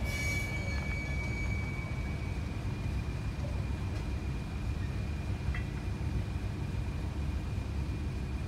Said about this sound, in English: 31601 was cleared to leave and take with it the iron ore tippler train.